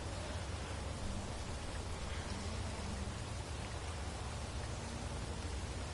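Steady rain falls throughout the foggy, miserable weather of the video game Armageddon, a dense, even hiss with a low rumble beneath, constant and fairly loud with no voices.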